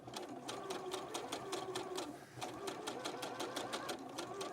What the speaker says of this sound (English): I daren't sew over the pins today.